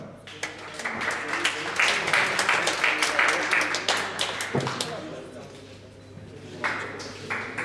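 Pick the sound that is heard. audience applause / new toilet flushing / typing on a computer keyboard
audience applause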